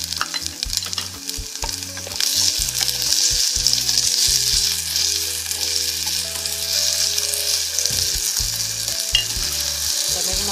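Onion, garlic and added tomato sizzle loudly in a pan, with a constant bright frying hiss and repeated stirring scrapes and knocks throughout.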